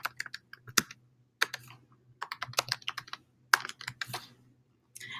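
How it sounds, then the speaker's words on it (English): Keys clatter on a computer keyboard in quick bursts of several strokes, separated by short pauses, close and fairly quiet against a faint low hum. "I can type within the note and I can also title it"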